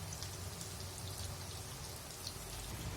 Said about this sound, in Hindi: मध्य फ्लेम पर हम इसे अच्छी तरह फ्राई होने देंगे